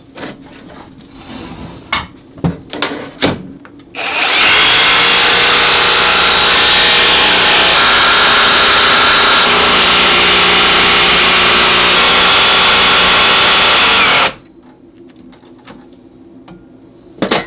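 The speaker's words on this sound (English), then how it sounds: "I'll attempt to cut it out with a jigsaw." Jigsaw cutting a shuriken out of an old steel saw blade, a loud, steady buzzing rasp running for about ten seconds, framed by scattered clanks and handling knocks before and after.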